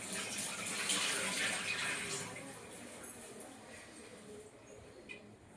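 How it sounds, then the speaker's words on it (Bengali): Water from a tap splashes over hands during a wash in a home kitchen, a brief close hiss that fades after a few seconds. "হাতটা ধুয়ে নেব।"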